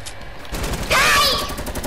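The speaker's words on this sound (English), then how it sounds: "And look at you already shooting me down." Bursts of gunfire from players shooting each other in Fortnite, rapid and overlapping, with a louder whooshing blast partway through and game noise throughout.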